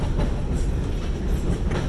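Train rolling across a bridge over water, a loud continuous rumble with rhythmic clickety-clack of wheels on the rails, heard close from aboard with no talking.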